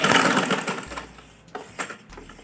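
A sewing machine runs in short bursts while stitching a girl's winter frock, its motor whirring close and loud, then slowing and stopping in brief starts and pauses.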